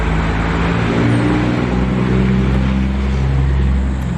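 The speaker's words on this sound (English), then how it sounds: "Really loud truck." A heavy vehicle engine rumbles loudly and steadily throughout, a deep droning motor sound close by with no voices.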